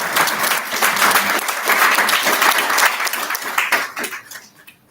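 An audience at an international conference on intelligent systems and machine learning claps loudly, a dense burst of many hands that holds steady for several seconds before quickly fading out.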